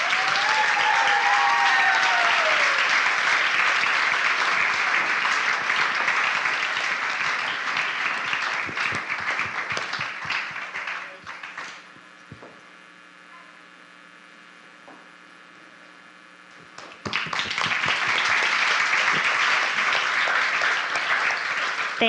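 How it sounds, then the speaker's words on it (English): An audience at a community festival ambassador coronation applauds loudly and steadily for about eleven seconds, the clapping fades to a quiet lull with faint hum, then a second strong burst of applause starts. "Please give a round of applause to congratulate and thank Miss Alexa Lutz Chase."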